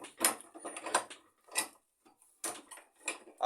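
A pipe wrench is tightened on a pipe elbow in a series of short, close metallic ratcheting clicks and scrapes, arriving in uneven bursts with brief pauses between them.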